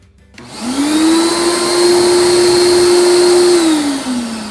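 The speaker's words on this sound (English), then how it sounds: "right now I'm just spraying it with hot water and having it vacuum it up" A rented rug-cleaning machine spraying hot water and sucking it back up from carpet in a rental unit gives a loud, steady whining drone after a clunk of start-up, then winds down.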